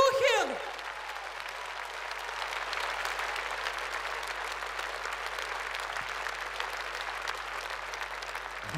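Sustained audience applause at a concert in the State Kremlin Palace, a dense steady wash of clapping from a large crowd that continues without a break.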